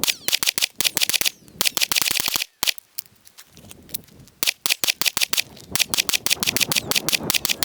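Rapid strings of gunshots from a handgun being fired through successive magazines with a weapon light mounted, sharp close cracks in quick bursts broken by a couple of brief pauses.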